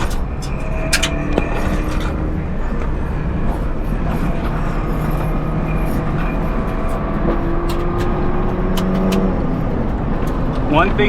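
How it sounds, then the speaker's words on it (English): A car drives past on an open road, with a steady, loud rumble of engine and road noise mixed with wind buffeting that holds throughout. "Here comes a car."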